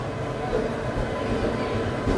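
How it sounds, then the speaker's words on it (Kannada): The Mysuru Express pulls into platform two at a station, a dense low rumble and rolling hum of the arriving train filling the short stretch steadily and loudly without pause. "ಇದು ನಮ್ಮ Mysuru express ಸುಧಾರ್ಪೇಟೆಯ platform number ಟೂಗೆ arrive ಆಗ್ತಿದೆ"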